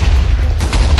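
Heavy booming blasts from a bombardment in Minecraft on the Hypixel server, loud and dense rumbling explosions packed into about a second with no break.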